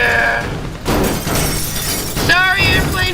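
An airport is smashed apart in the destruction game Teardown, with continuous loud crashing and shattering debris, while vocal sounds rise over the chaos near the end.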